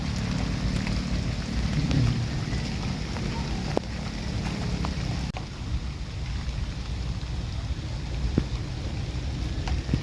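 Light, even rain patters steadily on garden plants outdoors, with faint distant rumbles and a few sharp drips and taps through a soft, continuous hiss.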